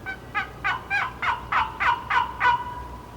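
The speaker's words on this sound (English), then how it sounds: "there's the box call, actually hear the pace with which you call in a turkey" Wooden turkey box call worked in a hunting setting, giving a series of about eight evenly paced raspy yelps, moderately near, with no talking.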